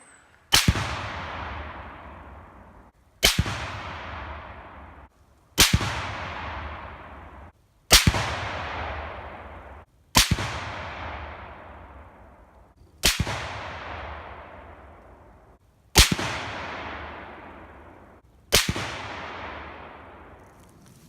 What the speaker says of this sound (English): I'll be shooting at 100 yards